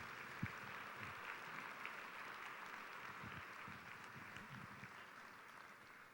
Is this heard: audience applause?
yes